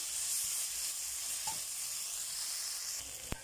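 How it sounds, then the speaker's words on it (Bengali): Broad bean seeds sautéing in a pan for a rohu fish dish, with a continuous soft sizzle, one brief scrape midway and a sharp knock near the end. "সিমের বিচিগুলো আমি একটু 1 মিনিটের মতো একটু ভিজিয়ে নিব, মানে কষিয়ে নিব।"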